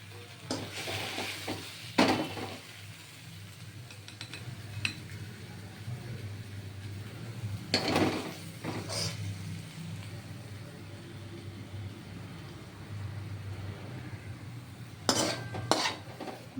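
Metal spoon scraping and clinking against a pot and serving dish while cooked Bengali vegetarian Malabar spinach curry is ladled out, several sharp clatters standing out over a steady low background hum.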